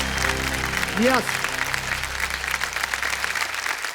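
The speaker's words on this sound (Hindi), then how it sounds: "जोरदार तालियां बज जाए एक बार फिर से।" Studio audience applause on a quiz show set, a dense clapping wash heard under a brief spoken word and a short rising musical sting.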